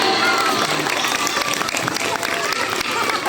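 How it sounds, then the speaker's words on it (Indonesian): Elementary school children at an Isra Mi'raj religious talk clap together in a loud, dense burst of applause mixed with crowd noise, continuing steadily throughout. "Tepuk tangan."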